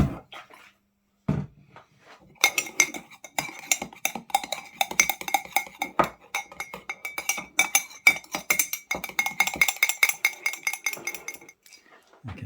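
A spoon clinks rapidly and irregularly against a glass as coffee is stirred together with boiled water for a coffee and walnut cake, close and crisp with no talking.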